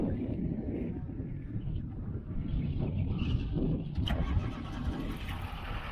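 A Ford Cortina engine turns over and catches, settling into a steady, close low rumble that fills the whole stretch without any voices.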